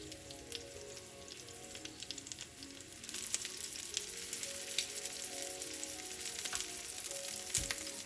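Cabbage rolls fry in a pan with a steady, crackling sizzle. Scattered pops and light clinks of a utensil grow a little louder partway through as the rolls are turned.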